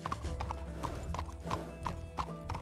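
Video game horse hooves clip-clop steadily on a hard surface, evenly paced and close, over a low background hum, with no talking.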